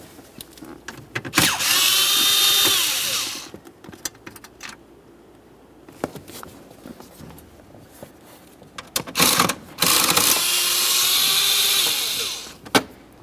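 A power tool whirs in two sustained bursts, each about two seconds, as it backs out 7mm bolts from the plastic kick panel under the steering column of a 2001-2005 Ford Explorer, with clicks and handling noises between.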